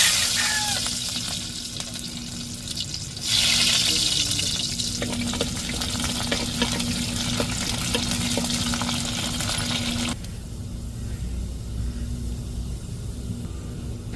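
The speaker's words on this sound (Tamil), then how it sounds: "வெந்தயம் நல்லா பொரியட்டும் சின்ன வெங்காயத்தை சேர்த்துக்கிடுவோம்" Fenugreek seeds and small shallots fry in hot oil as tempering for a fish curry, making a continuous loud sizzle that jumps louder partway through and then settles to a quieter, steady frying hiss.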